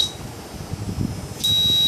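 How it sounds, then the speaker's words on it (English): A holiday detector's buzzer: a steady high-pitched electronic beep cuts in partway through and holds, with a brief beep at the very start and low handling noise underneath. "Yes, the buzzer gives"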